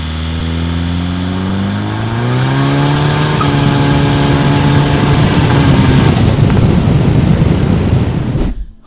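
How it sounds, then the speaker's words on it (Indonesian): A tuned 654 hp Toyota Innova with a 2KD engine accelerates hard at full throttle: a loud, close engine note climbs steadily in pitch and swells into a roaring rush before cutting off abruptly at the end. "Tadi pas pertama kali gue gaspol ini mobil, gue lupa kalau ini mobil 654 horsepower."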